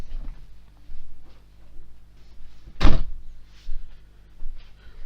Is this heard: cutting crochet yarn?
no